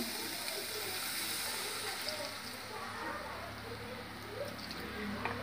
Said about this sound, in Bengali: এবার এতে একটু জল দিচ্ছি